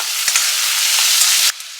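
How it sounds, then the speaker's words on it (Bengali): Sliced onions and two whole garlic cloves fry in hot oil in a pan, making a loud continuous sizzling hiss up close, with brief stirring knocks and an abrupt drop near the end. "পেঁয়াজটা ভাজার সময় দুটো গোটা রসুন আমি ধুয়ে দিয়ে দিলাম।"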